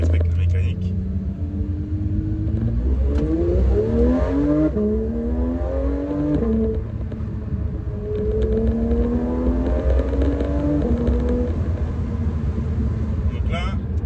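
A Porsche GT3 engine, still being run in and limited to 6000 rpm, revs repeatedly, its pitch climbing and dropping in several surges over a constant low rumble.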